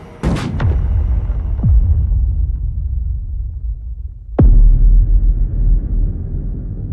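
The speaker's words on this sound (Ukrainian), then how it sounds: "Вибух." A few sharp blasts at the start, then a single powerful TNT charge explosion with a deep, rumbling boom that rolls on afterward, loud and close.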